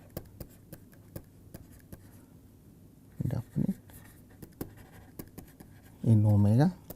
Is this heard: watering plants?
no